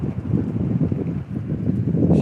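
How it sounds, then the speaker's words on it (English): Gusty wind buffets the microphone in low, rumbling surges that rise and fall throughout, with no talking. "I tell you how windy it is"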